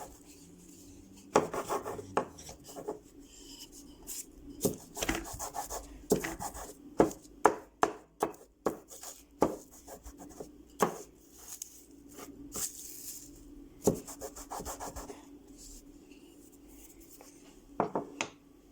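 Rose night cream ingredients ground by hand, with irregular scraping, rubbing and gritty crunching strokes, some sharp and close, others soft, with quiet pauses between bursts and no talking.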